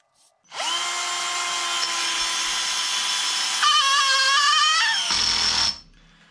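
Parkside 12V cordless drill-driver driving a screw into material: a close, loud steady motor whine that holds pitch, wavers and strains near the end as the screw seats, then stops abruptly.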